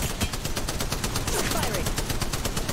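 Rapid automatic gunfire from the mobile video game Apex Legends Mobile rattles on without pause, a dense, loud stream of shots close up amid battle noise.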